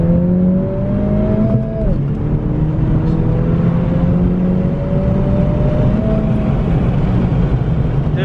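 A Honda Civic Si accelerating hard in second gear, heard from inside, its engine note climbing steadily and loudly, with a brief dip at a shift point and a second long rising pull.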